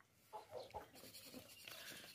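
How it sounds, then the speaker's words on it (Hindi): A plump, healthy castrated male goat with long ears at a livestock market calls out in a few short bleats, close and fairly loud, over a steady background of market noise. "बहुत ही प्यारा और खूबसूरत मोटा ताज़ा बकरा है"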